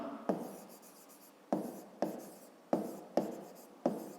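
A pen strokes and taps on paper while a square's perimeter and area are written out in a fifth-grade maths exercise, six or so sharp onsets each trailing into a soft scratch, close and quiet, with no voices.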